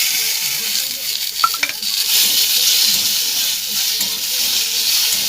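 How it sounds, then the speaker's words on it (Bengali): Dried chilli, tomato and onion frying together in a pan, a steady loud sizzle and hiss with a few metallic clinks of a utensil partway through. "এরপর আমি এগুলো সব একসঙ্গে দিয়ে দিয়েছি, হালকা করে ভেজে নেব"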